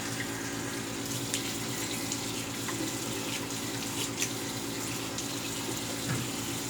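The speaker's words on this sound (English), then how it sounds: "Let's get a cold water rinse." Cold water runs steadily from a tap into a sink for a face rinse after shaving, a continuous splashing rush with no talking over it.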